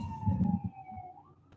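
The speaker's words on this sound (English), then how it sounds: "Do you hear them? The sirens?" Emergency sirens in Minecraft wail in the distance, a thin rising and falling tone over low rumbling background noise.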